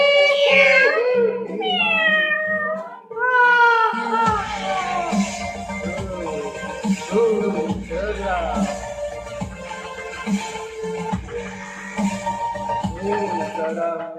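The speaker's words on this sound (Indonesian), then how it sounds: "Ringtone kucing setan." Demon cat ringtone of drawn-out, eerie meows and caterwauls that rise and fall, followed by layered wailing cries continuing loudly to the end.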